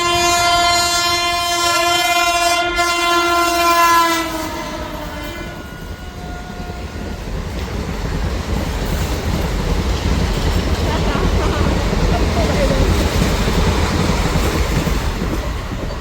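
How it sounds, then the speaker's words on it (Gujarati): A train horn blares loudly for several seconds at a level crossing, then the train rumbles past nearby with a steady roar of wagons on the rails. "હવે ટ્રેન આવી તો હવે મોબાઈલ મૂકી દઉં એટલે આ ટ્રેનનો સીન લઈ લઉં"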